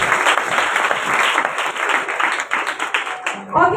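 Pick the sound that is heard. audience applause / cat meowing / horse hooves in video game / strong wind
audience applause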